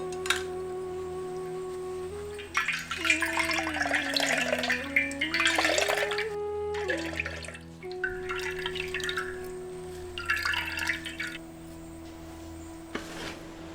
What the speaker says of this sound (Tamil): இப்ப ஒரு தேங்காயை நல்லா அரைச்சு பாலை பிழிஞ்சு எடுத்துக்கலாம்